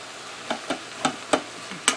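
Baby bella mushrooms cooking down in a pot, giving soft intermittent sizzling and stirring noises, a few brief bursts spaced about every quarter to half second, fairly quiet with no talking.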